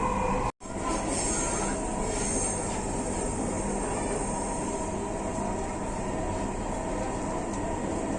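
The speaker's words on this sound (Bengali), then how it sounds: "ট্রেনটির গন্তব্যস্থল মতিঝিল, পরের স্টেশন কাজীপাড়া।" Dhaka metro train running between stations, heard from inside the carriage: a loud, steady rumble and rush of motion with high wheel squeal, continuous and close, briefly cut by one short dropout near the start.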